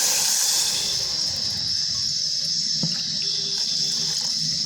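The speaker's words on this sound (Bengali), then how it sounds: "আর দিয়ে দেব জল আমি ওই বাটিরই দু বাটি জল এখানে দিয়ে দিচ্ছি" Water is poured from a bowl onto sugar in a pot, giving a steady, close rushing hiss that runs the whole time with no talk over it.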